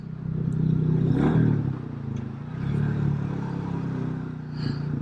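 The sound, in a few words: Royal Enfield Classic 350 motorcycle engine running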